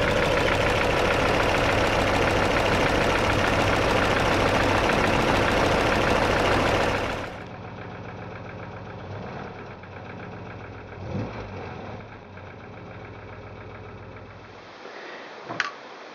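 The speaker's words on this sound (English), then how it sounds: "when the engine is warm, we get a knocking noise" An MGB engine running warm with a knocking noise from a sloppy piston and gudgeon pin, a new piston in the number one cylinder. It sounds as a loud, steady mechanical clatter for about seven seconds, then drops to a much quieter background.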